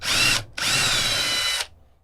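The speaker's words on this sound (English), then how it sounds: "it's going to be much easier to use a drill like this." Power drill running a tap to cut threads in a metal frame part for a Voron 2.4 3D printer: two loud, steady bursts of whining motor, a short break between them, then it spins down.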